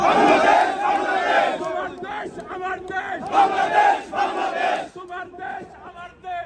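Crowd in Altab Ali Park, London, chanting political slogans in unison, loud and rhythmic with repeated shouted phrases and brief pauses between them.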